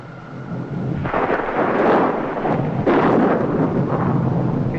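Rumbling thunder as a sound effect in a 1950s Rocky Jones, Space Ranger science-fiction episode: two long, loud rolling peaks of broadband rumble with crackling texture and no speech.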